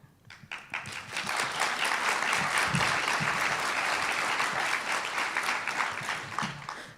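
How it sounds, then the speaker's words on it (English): A crowd applauds at a nursing school pinning ceremony, the clapping swelling quickly and holding as a sustained dense roar before it tapers off at the close. "Just to give ourselves a round of applause and keep our heads up"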